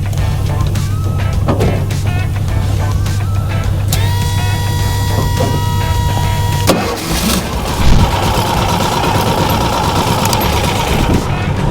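A pickup truck stuck in a ditch runs its engine to power a winch, a steady close rumble with a shift in its note partway through.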